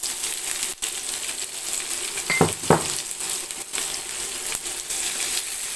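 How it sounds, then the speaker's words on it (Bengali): Chopped onion for chicken curry frying in a pan gives a continuous sizzle, and a couple of sharp metallic knocks and scrapes from a utensil come partway through. "পেঁয়াজটাকে গোল্ডেন ব্রাউন করে ভেজে নেব।"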